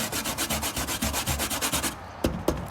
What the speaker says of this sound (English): So this is the grater method if you don't have those things.